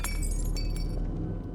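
Breakable wire glass shatters in a Half-Life 2: Episode Two mod, a sharp crash at the start that scatters into bright tinkling shards fading over about a second.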